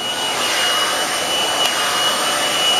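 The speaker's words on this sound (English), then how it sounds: "I prefer to blow dry the hair first" A hair dryer blows a steady, loud, unbroken whoosh with a faint high whine while black hair is blow-dried before flat ironing.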